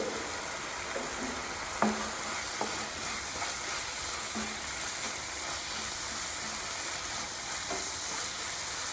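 A lunch-box dish fries in a pan with a constant, even sizzle after chili powder goes in, with a few faint scrapes of stirring scattered through and no voices.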